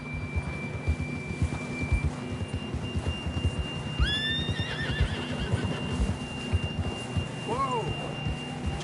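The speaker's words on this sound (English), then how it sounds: "John was riding that horse when we left Blackwater." In the Red Dead Redemption 2 video game, a horse whinnies loudly twice over a steady clatter of hooves, with a thin sustained tone running in the background.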